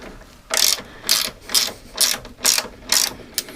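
A hand ratchet tightens a bolt on the suspension of a Peugeot 205, giving six or seven sharp, close clicking bursts in a steady back-and-forth rhythm with brief pauses between strokes; no one speaks.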